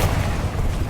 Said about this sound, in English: Descendo